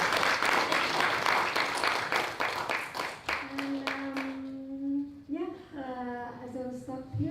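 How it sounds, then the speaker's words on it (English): Audience applause for a guest speaker at an academic summer school session, steady for about three seconds and then fading out as talking voices take over. "Please give applause to the speaker."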